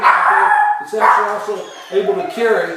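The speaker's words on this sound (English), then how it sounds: "and that was my dog" A pet dog barks in short bursts at home, heard close and fairly loud beneath a speaking voice that keeps talking over it.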